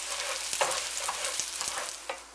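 Rice stirred and fried in a pan for classic saffron rice, a steady soft sizzle with intermittent scraping knocks of the spoon against the pan, close and alone.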